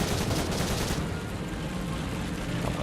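A 7.62mm machine gun on a tank in War Thunder fires a dense, continuous burst, a harsh, rapid rattle that stays loud for the whole stretch and eases slightly after the first second.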